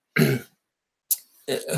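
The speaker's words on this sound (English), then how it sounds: "she sort of coughs out a bit" A short, close cough with a throat-clearing rasp, followed by a pause and then another brief cough-like burst.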